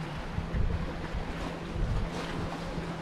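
Low rumbling wash of sea waves, heard from a boat, with steady wind noise buffeting the microphone, swelling in two stronger surges.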